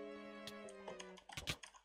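Crisp, faint key clicks from a new mechanical keyboard, a few scattered presses and then a quicker burst, heard over a steady background tone.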